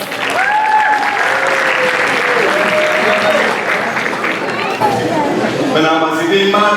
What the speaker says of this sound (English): So let's welcome them with a huge round of applause